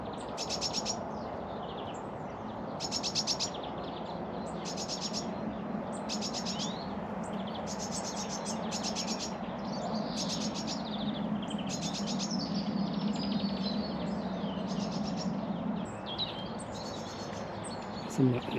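Blue tits, chaffinches and goldfinches sing in a churchyard: repeated bursts of high chirps and trills, fairly faint and somewhat distant, over a low steady background rumble.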